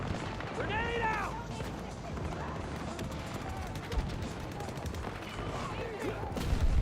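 Video game combat with a grenade detonation and rapid gunfire, a dense, continuous clatter of shots and bursts under a player's talk, loud and close throughout.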